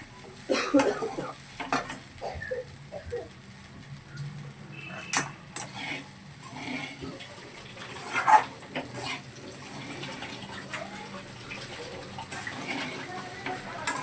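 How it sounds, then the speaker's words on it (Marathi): Sabudana khichdi stirred in a pan, giving soft, irregular scraping and shuffling strokes close by over a light background hiss, with a few sharper clicks and a faint voice at times. "छान मिक्स करून द्यायचं"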